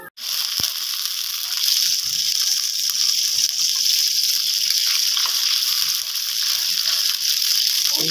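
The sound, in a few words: bottle gourd frying in oil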